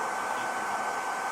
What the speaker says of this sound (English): you can accelerate oils by doing this with a hairdryer